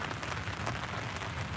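Light rain falling on the banks of the Burnett River, a soft, even hiss of drops pattering on surfaces, steady and close throughout with no voices.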